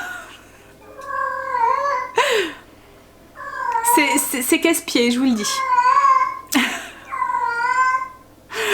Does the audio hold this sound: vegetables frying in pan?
no